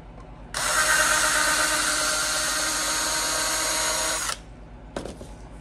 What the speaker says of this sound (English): So let me get a 4" by 4" piece cut for the floor.